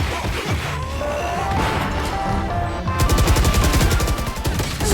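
Rapid gunfire in a competitive shooter video game, with dense repeated shots over a busy game-audio mix that grows louder and sharper in the second half.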